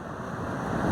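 Strong wind buffeting the microphone on top of the Kovalam lighthouse, a brief, continuous low roar that swells slightly toward the end.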